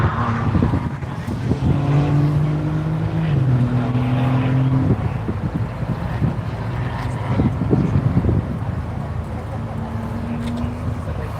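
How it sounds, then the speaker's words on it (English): A Honda race car on BF Goodrich Phenom tires drives past on a track, its engine note rising and falling as it passes at moderate distance, with other car noise and commentary voices underneath. "Comes Ed in the Honda, running on those BF Goodrich Phenom tires"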